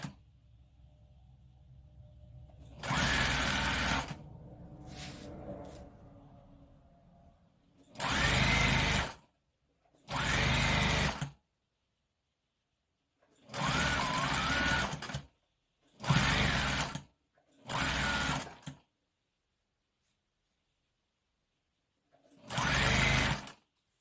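A sewing machine stitching a dress lining to the sequinned shell of a black prom dress runs in seven short bursts of one to two seconds each, separated by silences, close and clear.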